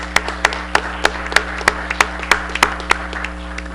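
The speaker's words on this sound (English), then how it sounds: "I think we should give them a big round of applause and thanks for their coming forward" Scattered hand clapping from a small audience at a local meet-the-candidates event, sharp, distinct claps in a loose, uneven rhythm over a steady electrical hum.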